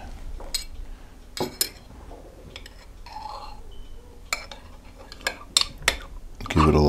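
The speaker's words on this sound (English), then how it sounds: "give it a little stir" A spoon stirs thickened homemade crème fraîche in a container, giving soft scrapes and light, irregular clinks against the sides, heard up close and ending in a louder clatter.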